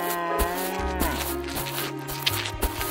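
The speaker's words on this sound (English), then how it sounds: "Hey, look! It's a cow!" A cow moos repeatedly at close range on a farm, drawn-out lowing calls that bend in pitch, one after another with short gaps, loud and alone.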